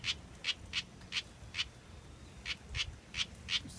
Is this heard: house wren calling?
yes